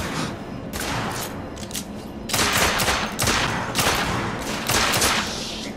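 Rapid bursts of gunfire from the third-person shooter The Order: 1886 crack through a steady battle din, with several dense volleys clustered in the second half, loud and close.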